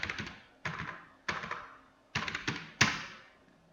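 Typing on a computer keyboard while working in Excel: five quick clusters of close, quiet keystrokes with short pauses between them.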